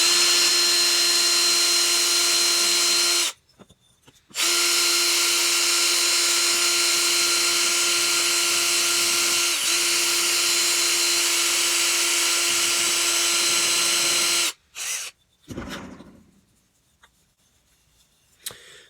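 A rotary tool with a grinding stone bit whines at a steady high pitch against a rough surface in two long runs separated by a short pause, then winds down and stops, close and loud.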